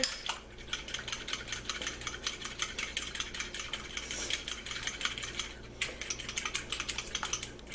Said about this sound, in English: I'm just going to whisk it together